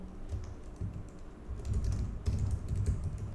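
Quick, steady clicking of keys on a computer keyboard as an app name is typed, close and clear over a low background hum.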